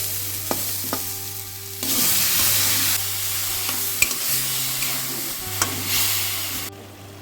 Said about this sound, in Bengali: সবজিটা ভাজা হয়ে গেছে, এবার অল্প করে একটু জল দিয়ে দেবো।